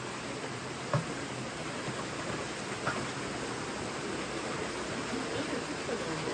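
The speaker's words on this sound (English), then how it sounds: "The water's bellowing out of there" Strong flow of water gushing and pouring into a koi pond in southern Japan, a steady broadband roar that fills the clip without a break, with a couple of brief faint knocks over the constant rush.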